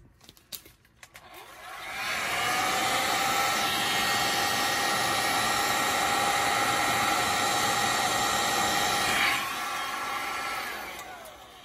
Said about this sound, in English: So let me show you a heat gun on high.